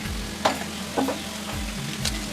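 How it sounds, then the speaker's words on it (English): Jamaican steamed callaloo cooking in a pot, stirred with a few scraping strokes over a steady close sizzle, no voices. "So just keep giving that a nice little stir"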